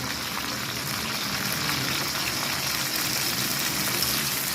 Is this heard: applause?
no